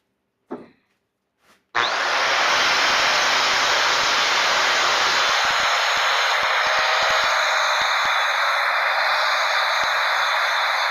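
A power tool shaves down a wooden frame brace in a continuous, loud, steady grinding whir that starts abruptly after a couple of faint knocks and runs without a break.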